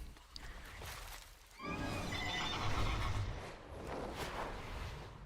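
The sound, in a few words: horse steed mount neighing in a video game, Death Knight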